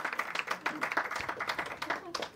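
Audience clapping at a community poetry recital in Pune, a close, steady patter of many hands with brief dips, lasting a couple of seconds with no voices over it.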